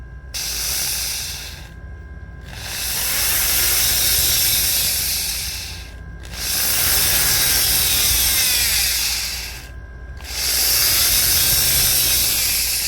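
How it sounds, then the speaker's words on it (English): Holes are drilled into a 3D printed Hamilton Standard propeller hub in three steady, whirring bursts of several seconds each, separated by short pauses, close and fairly loud. "So I want to make sure that the hole is drilled cleanly."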